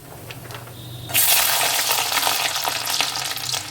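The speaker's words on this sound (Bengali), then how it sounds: "এবারে আমি এর ভিতরে দিয়ে দেব কালো জিরে সেই সঙ্গে দেব দুটো শুকনো লঙ্কা আর অনেকটা পরিমাণ রসুন আর পেঁয়াজ" Nigella seeds, two dried red chillies, whole garlic cloves and onion hit hot oil in a pan and erupt into a loud, steady sizzle that holds to the end after a quieter start.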